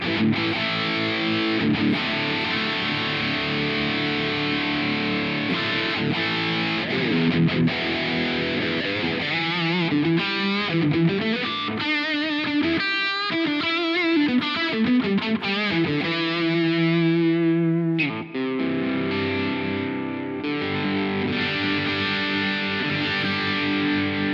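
Distorted electric guitar through a Quad Cortex amp profile with a vintage 30s cabinet, loud, thick chords and riffs played continuously for over twenty seconds with changing phrases and a brief pause near the end.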